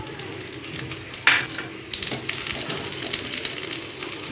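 Dried chilli, cumin, cashew and bay leaf crackling in hot ghee as a tempering for sago khichuri, a close, steady sizzle with a sharp burst of spitting as the spices hit the fat and a few stirring scrapes after.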